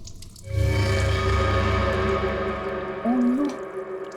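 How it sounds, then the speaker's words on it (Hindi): Water gushes steadily into a bathroom for a couple of seconds, then fades as squeaky tonal sounds rise over soft background music. "बाथरूम में पानी भरने की आवाज आ रही है।"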